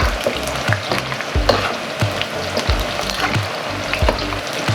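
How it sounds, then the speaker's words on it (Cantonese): Onions and eggplant tossed together in a hot frying pan: a continuous close sizzle punctuated by regular spatula scrapes and stirring knocks, roughly one every half second, with no talking. "然之後洋葱都落去炒一下"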